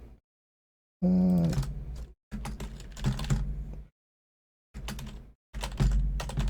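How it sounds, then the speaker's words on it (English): Keys clatter on a computer keyboard in short bursts separated by silent pauses, close and fairly crisp. "You hear me typing here."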